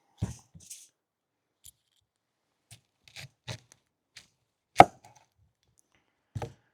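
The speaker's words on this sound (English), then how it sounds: "If you cut it along the spine like this, it'll stay together rather than make onion rings" A knife slicing an onion lengthwise along its spine on a board at a one-night campsite, sparse soft crunching cuts and taps separated by near silence, one louder thunk near the middle.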